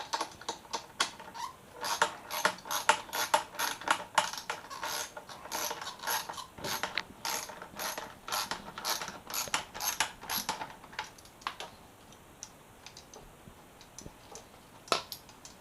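A ratchet with a 10mm socket clicks rapidly in quick repeated bursts while removing small bolts from a crashed Yamaha FZ6R motorcycle in a garage. Close and crisp, it is heard alone with no talk.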